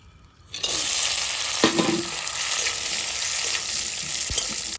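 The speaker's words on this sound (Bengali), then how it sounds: "এবার আমি তেল দিয়ে দেবো কাজু কিশমিশ ভেজে দেবো" Cashews and raisins fry in hot oil for a khichuri, a loud continuous sizzle that starts suddenly and holds steady, with a few faint stirring clinks and no voices.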